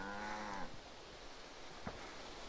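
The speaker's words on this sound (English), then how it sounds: "Fucking cow just made a mooing noise." A cow in the game DayZ gives a single low, drawn-out moo at the start, then falls quiet, with a faint brief noise later over a soft steady background hiss.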